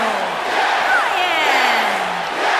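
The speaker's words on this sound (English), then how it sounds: "And the crowd here tonight still in awe over that great match." An arena crowd in the wrestling game WWE 2K19 roars and cheers in a dense, continuous wash of noise, loud and close, with an excited shout rising above it.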